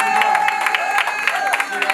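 Christening congregation clapping in praise, a steady patter of many hands filling the room, with crowd voices mixed in throughout.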